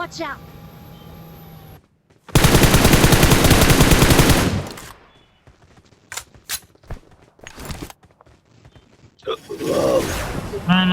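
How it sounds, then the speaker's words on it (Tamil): A video game magnet gun firing: a loud, dense burst of rapid mechanical rattling lasting about two seconds. Shorter sharp clicks follow, then another noisy burst, with voices talking over the game sounds. "Magnet gun sound."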